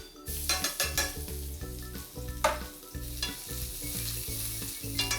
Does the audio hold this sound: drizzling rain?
no